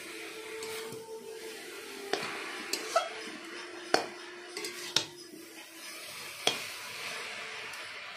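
Bethua greens fried in a pan and stirred with a spatula: a soft sizzle running underneath, broken by several sharp scraping clicks of metal against the pan spread across the whole stretch.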